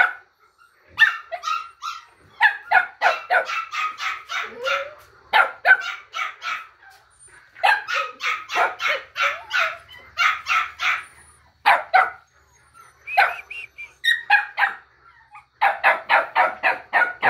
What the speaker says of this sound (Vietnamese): Con này thì sủa rất là nhiều luôn, sủa suốt cả ngày luôn.